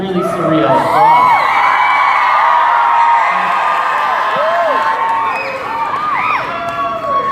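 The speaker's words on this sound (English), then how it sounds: "you guys would be screaming like you are" A live audience at a Tour of Mythicality Q&A show screams and cheers continuously, with loud, overlapping high-pitched shrieks and whoops from a large crowd throughout.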